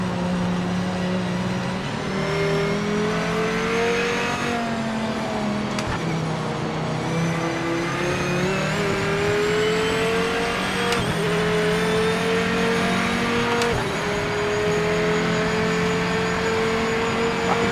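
A GT3 race car from a racing video game roars past with a rising, straining engine note, layered over the player's own car engine droning and shifting gears steadily throughout.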